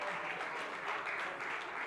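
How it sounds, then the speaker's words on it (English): A post-budget economic forum audience applauds as a KPMG tax partner is welcomed to a panel, with thick, continuous clapping filling the room at moderate volume. "Let's welcome Alex with a round of applause."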